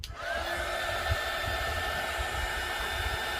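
Hair dryer blowing on freshly applied green chalk paint on a dollar store craft piece, switching on with a rising whine, then a steady loud whir that runs on with no voices.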